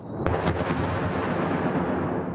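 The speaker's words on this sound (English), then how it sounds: "Russian shells continue falling." Shelling near Kyiv during the Russian attack: a dense, roaring low rumble of distant artillery fire runs steadily throughout, with a sharper crack near the start and another soon after.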